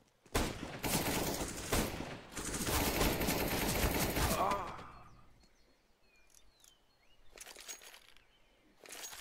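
A CS:GO firefight erupts with dense bursts of rifle and automatic gunfire, loud and rapid for several seconds, then fades to quieter scattered shots and faint ambient chirps.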